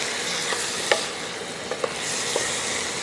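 Tomatoes and onions frying in a pan for butter chicken gravy, a steady broadband sizzle with a few soft stirring clicks and scrapes, close and continuous, with no talking.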